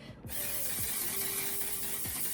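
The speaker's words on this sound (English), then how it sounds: "We are just going to spray it with our Holy Grail" Makeup setting spray misted over a face during a daily makeup routine: one steady, close hiss of fine aerosol that starts abruptly and runs unbroken for about two seconds.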